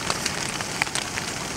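Light drizzle falls on a winter forest campsite, making a soft, steady patter with scattered small drop ticks close by and no voices.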